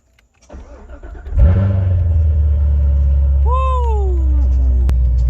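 A Chevrolet Corvette Z06 fires up from a button start: a brief starter whir, then a loud catch and a deep, steady idle rumble with one quick rev flaring up near the end, close by and with no talk.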